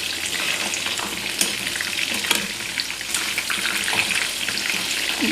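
Batter-coated mushroom 65 fries in hot oil, a dense, steady sizzle and crackle with scattered sharp pops and occasional stirring clinks, close and unbroken throughout.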